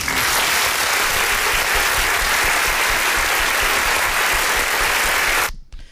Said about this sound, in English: So we'd like to welcome them with a round of applause.